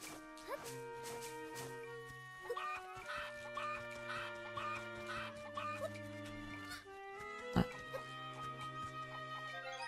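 Chickens clucking in the video game The Legend of Zelda: Echoes of Wisdom, with short soft cluck sounds set over sustained game music notes and occasional sharper effects.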